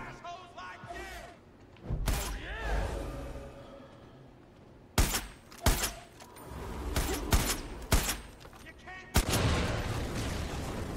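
Gunfire in the video game Far Cry 5, including a shotgun, comes as sharp, loud separate blasts spread across the scene, some in quick pairs, with a player talking between and over the shots.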